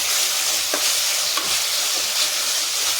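Okra frying in a pan with a steady broadband sizzle, a few soft scrapes of stirring breaking through, close and continuous with no talk.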